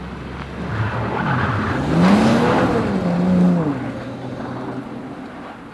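A BMW X5 45e hybrid SUV drives at a winter tyre test centre, its engine rising and falling in pitch as it accelerates and eases off, with steady road and tyre noise close by; no talk.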